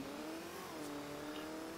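Cars in a video game drive with a steady, continuous engine drone, loud and unbroken across the short moment.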